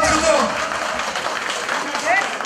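Audience applause at a village family celebration, a brief steady patter of many hands clapping under a loud voice and background chatter.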